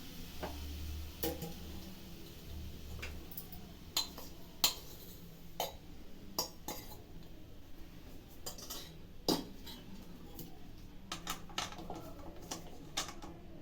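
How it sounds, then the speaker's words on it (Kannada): Rusk powder being mixed in a pan off the heat for rusk laddu: faint, scattered clicks and light clinks of a spoon against the pan over a quiet background, with a few sharper taps. "ಇದೆಲ್ಲ ಚೆನ್ನಾಗಿ ಮಿಕ್ಸ್ ಮಾಡಿದ್ದೀನಿ"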